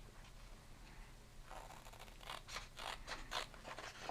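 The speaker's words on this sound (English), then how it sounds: "So I'm going to go ahead and cut my stencil apart." Scissors snip through a craft paper stencil cut to placemat size, a run of close, crisp cutting strokes starting midway through and repeating quickly over a low background hum.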